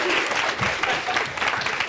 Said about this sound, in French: Acclamation pour les chauves, s'il vous plaît.